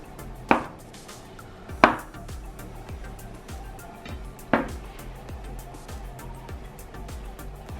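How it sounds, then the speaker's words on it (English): A knife dices tofu into cubes on a cutting board, a few sharp separate chops spaced irregularly against a quiet background hum. "Cut tofu into dices."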